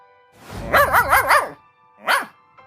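A cartoon dog gives a quick run of four close, loud, wavering barks, pauses, then adds one more bark, with no talking over it.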